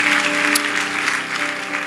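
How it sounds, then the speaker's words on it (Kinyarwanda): A gathering at a Christian memorial service applauds a grieving mother, the clapping dense, loud and sustained throughout without a break. "Mukoma amashyi menshi cyane ku mubyeyi wacu."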